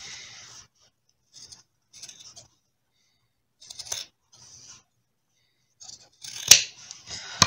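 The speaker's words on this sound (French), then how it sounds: "je recoupe mes marges de couture" Scissors trimming fabric seam allowances snip in short bursts of crisp cutting, with pauses between, ending in a louder, busier flurry of cuts close to the mic.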